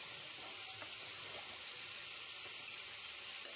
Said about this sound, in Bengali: আরও একটু তেল দিয়েছি, দিয়ে এর মধ্যে আমি শুকনো লঙ্কা, তেজপাতা, টমেটো আর গোটা জিরে ফোড়ন দিয়েছি